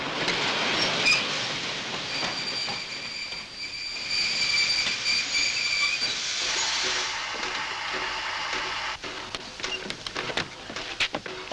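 A passenger train grinds to a halt after its emergency brake is pulled, with steady hissing and high metallic wheel squeal over rumbling carriages, then rattling clatter as it slows, loud and continuous throughout.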